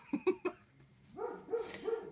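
A dog gives three quick, sharp barks close by, then breaks into a drawn-out whining, whimpering call that rises and falls for about a second; no one speaks.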